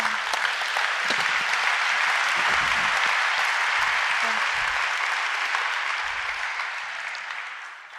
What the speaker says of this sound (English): The owners, that deserves a round of applause.